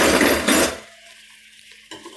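A whisk stirs halfcast whitening cream in a container, a brief burst of clinking and swishing up close that quickly drops to near quiet, followed by a faint tap.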